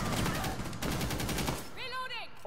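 Gunfire in Rainbow Six Siege ranked match: dense rapid automatic bursts fill the first second and a half, fading as a voice speaks over the tail.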